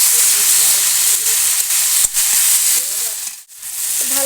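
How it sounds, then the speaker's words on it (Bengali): A pan of cabbage, potato and fish head curry fries with a loud, steady steamy hiss and sizzle, briefly dipping near the end before surging back. "এখন আমি একদম ভাজা ভাজা করে নেব"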